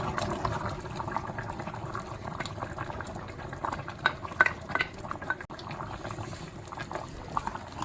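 Yogurt being mixed into mutton karahi in black pepper, a steady bubbling, liquid simmer with soft wet stirring textures running throughout, moderately loud and continuous with no talk.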